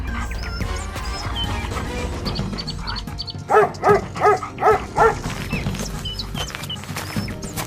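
A trained dog in a Hindi animated story barks five times in a quick, loud, evenly spaced burst midway through, over a steady background of music and ambience.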